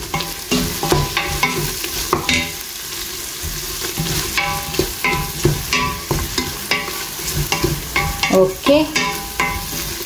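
A spoon stirs a sizzling mix with turmeric powder in a frying pan on high flame, scraping in quick, uneven strokes close up, with a brief spoken word.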